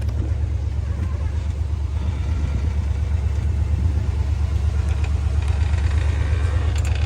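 A four-wheel-drive pickup truck with an automatic transmission idles with a misfire, a steady low rumble with a faint uneven pulse, close and continuous with no talk over it.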